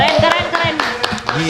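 A few people in a talk-show studio clap for a musician. The claps are sparse and irregular, and loud, lively voices talk over them.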